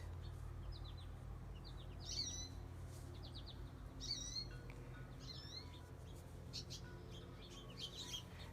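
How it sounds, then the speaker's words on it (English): Birds singing outdoors near a back porch, several short chirps and trills scattered across the clip, faint against a steady low background hum, with quiet voice-like murmuring underneath. "I am sitting on the back porch where I can hear my birds singing"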